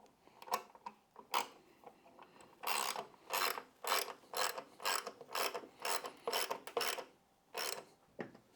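A ratchet clicks in short bursts of rapid ticks while bolts are snugged down on a carbon fiber tank console of a 2024 Harley Touring motorcycle. The clicking is close and fairly quiet, with brief pauses between strokes.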